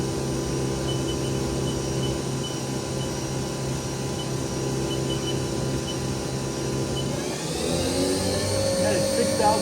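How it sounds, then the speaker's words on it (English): A 2002 Haas Mini Mill CNC vertical machining center spindle spins at high RPM, a steady loud whine with strong tonal hum that shifts upward in pitch near the end as the speed changes. "the preceding video was a HAAS CNC vertical machining center. It's a mini mill."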